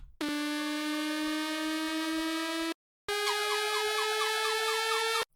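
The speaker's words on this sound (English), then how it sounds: "And a riser." Synth riser effect in a progressive house build-up: a sustained, bright harmonic tone heard alone in two loud sections split by a brief gap, the second part wavering with rising, siren-like movement.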